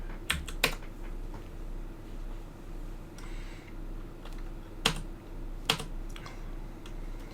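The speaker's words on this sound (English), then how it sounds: "Athos commented on the sound of the clicky keyboard." Typing on a clicky computer keyboard, with a few sharp, distinct key clicks spread unevenly over a low steady background hum, fairly close and moderately loud, with no one speaking.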